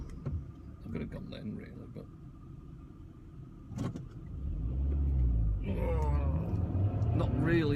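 A car accelerates while driving, engine rumble swelling steadily louder in the second half under someone talking inside the cabin.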